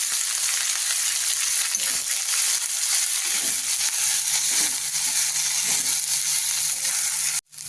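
Chopped mustard greens hitting a hot pan and sizzling, a loud, steady hiss of frying that continues throughout with faint stirring underneath, ending abruptly.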